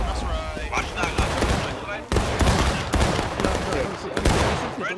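A military video game battle fills the air with dense, overlapping gunfire: rolling volleys and sharp cracks at varying distance, continuous and loud, with voices mixed into the din.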